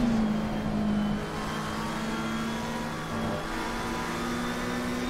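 Race cars in the Assetto Corsa Competizione video game at Kyalami, a steady loud engine drone holding a sustained pitch with other cars close by.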